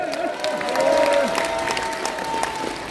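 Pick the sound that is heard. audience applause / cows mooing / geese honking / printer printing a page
audience applause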